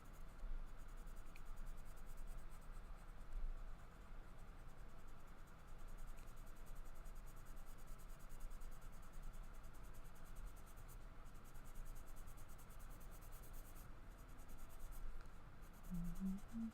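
Oil-based Grizaye colored pencils scratch steadily across paper while coloring a Wonderful Wizard of Oz page, a faint continuous close scratching that runs throughout with no speech.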